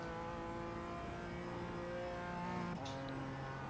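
Two GT3 race cars in iRacing at the Nürburgring close in from behind, their steady engine drone holding a sustained tonal whine that shifts pitch near the end as they draw alongside, moderately quiet and constant.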